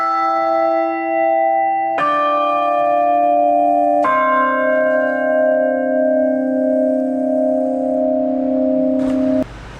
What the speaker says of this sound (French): Voici les 3 plus grosses cloches du carillon.